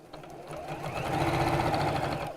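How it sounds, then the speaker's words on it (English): A sewing machine stitching along a fabric seam while making an Easter basket, giving a close, rapid, even whir and chatter that builds and holds steady for about two seconds, with no talking over it. "I find it easier to just sew just underneath the seam rather than trying to be exactly on the seam"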